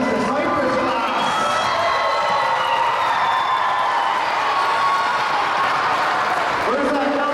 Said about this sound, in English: big round of applause for our grade sixes